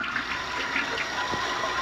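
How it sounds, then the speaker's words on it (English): A toilet flushes in the PS2 game Monster House, a steady rushing gurgle of water heard loud and close for the whole stretch with no talk over it. "you can turn on the taps and flush the toilet while you're here."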